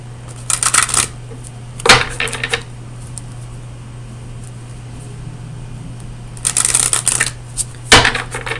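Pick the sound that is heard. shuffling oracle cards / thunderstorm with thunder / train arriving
shuffling oracle cards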